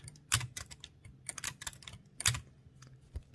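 Typing on a 1914 Blickensderfer Aluminum Featherweight typewriter: a short burst of crisp, close mechanical key strikes in an uneven rhythm, with a few louder clacks.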